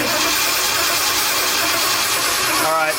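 A 1974 Ford F100 engine being cranked by the starter without catching, a loud continuous rhythmic whirring churn held close throughout, with voices talking over it.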